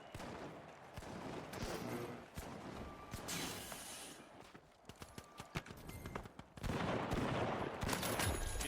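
Gunfire and explosive bursts from a grenade launcher in the video game The Finals, irregular sharp reports and clatter at moderate level, with a denser loud burst near the end.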